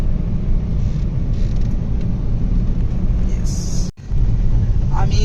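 A car drives along a winding ghat road through the Konkan countryside between Sakharpa and Lanja. Its engine and tyre noise make a loud, steady rumble that drops out briefly, with voices now and then.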